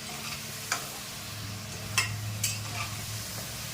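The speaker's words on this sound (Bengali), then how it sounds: "এবার এটা দশ মিনিট আপনারা নাড়া দেবেন এইভাবে নাড়া দিতে থাকবেন" Mutton curry being stirred in a pan, a soft continuous sizzle with a few sharp scraping knocks of the spoon against the metal.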